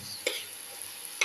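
Cauliflower pieces stirred and mixed in a sizzling pan, a low frying hiss punctuated by two sharp spoon scrapes.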